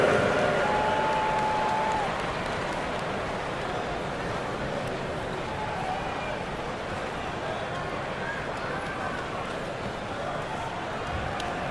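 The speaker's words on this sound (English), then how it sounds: "Give a big round of applause to your Knicks City Dancers." Crowd at a Knicks basketball game in a large arena cheering the Knicks City Dancers, a broad, steady roar of applause and noise that stays loud throughout, with faint announcing over it.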